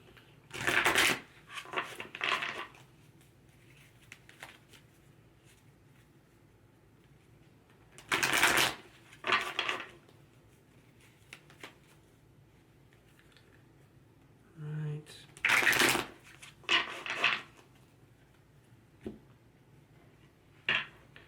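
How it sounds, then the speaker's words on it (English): Bursts of tarot card shuffling come in three separate rounds of riffling and tapping, close and crisp, with quiet pauses in between. "Okay, let's shuffle these cards here."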